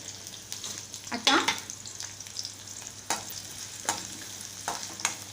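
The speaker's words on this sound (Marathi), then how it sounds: "कांदा मिरच्या थोड्या आपण भाजून घेऊया तेलात" Onion and green chillies fry in oil with a steady close sizzle, broken by repeated spatula scrapes and stirring clatters, one sharp crackling burst standing out early on.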